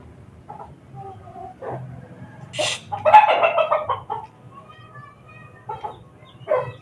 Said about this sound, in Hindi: दूसरी मुर्गियाँ भी आ गई थी यहाँ पे।